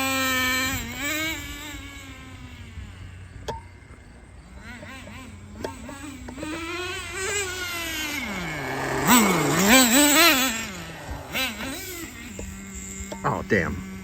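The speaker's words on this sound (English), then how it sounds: "The engine does not, in my opinion, the engine does not sound like it's leaning out too much." A Traxxas Nitro Rustler RC truck's nitro engine whines close by, its buzzing pitch sweeping up and down through several revs before settling back toward idle.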